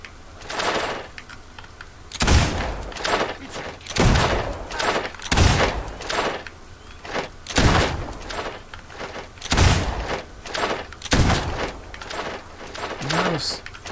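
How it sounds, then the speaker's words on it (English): Gunfire in the fantasy video game Fable 2 during a fight with bandits: repeated loud shots and bangs at irregular intervals across the stretch, close, with voices in between. "Start shooting."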